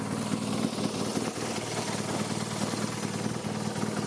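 Steady close idle of a ten-year-old BMW 1200 GS DOHC motorcycle engine, an even low rumble with rhythmic firing pulses and faint vibration, running alone without talk.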